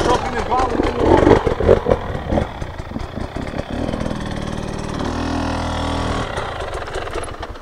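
An enduro offroad motorcycle engine runs nearby with a steady, throbbing idle. Someone talks loudly over it during the first half, and the engine carries on alone afterward.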